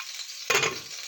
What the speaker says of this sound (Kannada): ಇವಾಗ ಫ್ರೈ ಮಾಡ್ಕೊಳ್ಳೋಣ